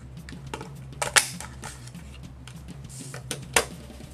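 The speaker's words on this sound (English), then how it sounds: "Punch out a circle for my base." A circle punch cutting through heavy cardstock for a craft base: sharp clicking snaps near 1.1 and 3.6 seconds over quiet handling and low background hum, close and fairly loud.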